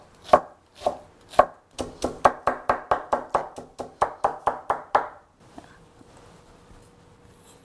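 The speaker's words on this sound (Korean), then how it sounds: "숙주도 송송송송 썰어 넣으세요" A knife chops mung bean sprouts on a cutting board for dumpling filling. It gives crisp, close thuds, three slower strokes followed by two fast runs of about a dozen, then stops.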